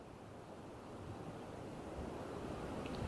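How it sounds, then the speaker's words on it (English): Sea waves wash against the shore near a Scottish lighthouse, a faint, steady surf rumble mixed with light wind, swelling slightly toward the end with no voices present. "All I can hear now is the sea."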